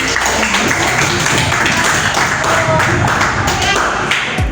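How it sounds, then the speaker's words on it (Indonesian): A class applauds fellow students after their presentations: dense, continuous clapping from many hands fills the room, loud and close, with some voices mixed in. "Beri tepuk tangan teman-teman yang sudah presentasi."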